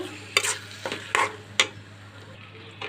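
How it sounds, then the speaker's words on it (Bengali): Tomatoes fry in a pan of already-browned onions for a rohu fish curry, with several distinct scraping stir strokes over a steady low sizzle and a constant low hum underneath. "টমেটোগুলো দিয়ে একটু ভাজা ভাজা করবো"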